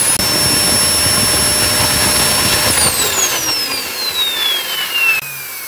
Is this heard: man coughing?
no